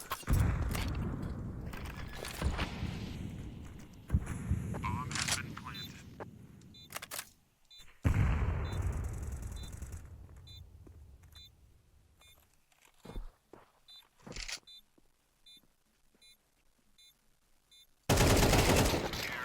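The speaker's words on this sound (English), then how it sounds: "Regali is shot through the wall, through the dome of SHG and OG" Counter-Strike 2 gunfire during a professional esports match breaks out in sharp bursts and single shots, some rapid and clustered, mixed with game effects and a commentator talking over the action.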